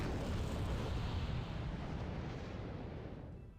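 An artillery explosion in the Wargame: Red Dragon game, a broad rumbling blast that fades slowly into a dull roar, heard alone.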